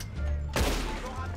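Gunfire in the video game Red Dead Online, a sharp, loud shot bursting out midway and ringing off into a decaying tail over low background sound.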